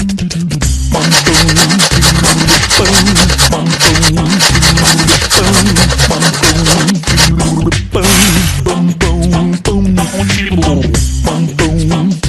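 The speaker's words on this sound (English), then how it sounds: "It's time to make some pizza. We need to grate this." Cheese being grated for a pizza in the Masha and the Bear Pizzeria video game: loud, repeated rasping strokes run throughout over busy, dense game audio.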